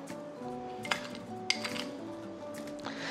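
A radish salad is tossed with sugar in a bowl, giving faint utensil clinks and scrapes against the dish, a few sharper taps standing out over a quiet room hum.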